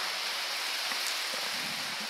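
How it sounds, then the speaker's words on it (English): Heavy rain falling outdoors, a dense steady hiss of drops with no break, fairly loud and close, no voices. "Okay, we have a lot of rain here."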